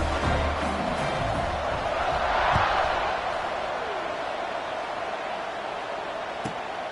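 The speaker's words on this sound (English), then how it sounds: "this crowd is buzzing after that last score." A stadium crowd in the College Football 26 video game buzzes as a steady, broad roar that swells briefly near the middle, with no commentary over it.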